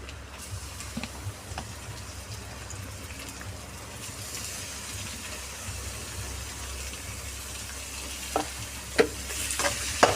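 Tomatoes with ginger garlic paste sauté in a pan, a steady soft sizzle and frying hiss throughout with occasional stirring scrapes and clinks, close and moderately quiet with no talking.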